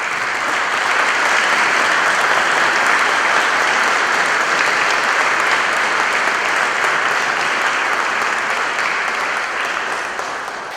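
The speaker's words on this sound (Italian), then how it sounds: "vi prego di accogliere con un grande applauso" Loud, sustained applause from an audience at an honorary engineering degree ceremony as a former officer is welcomed. The roar of many clapping hands is dense and steady and eases slightly near the end.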